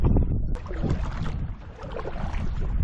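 Canoe paddling on a flowing river in the wind: a close, continuous rush of water and wind buffeting the microphone, with soft paddle splashes throughout the short stretch.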